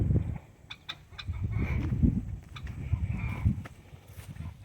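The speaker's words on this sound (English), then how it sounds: "we are behind our chicken coops and our turkey pen" Chickens cluck repeatedly behind the chicken coops and a turkey pen, several birds making short, uneven calls close by over low outdoor rustling and handling noise.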